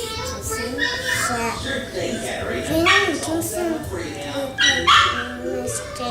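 Puppies yip, whimper and bark in high, squeaky bursts, while a person talks over them close by.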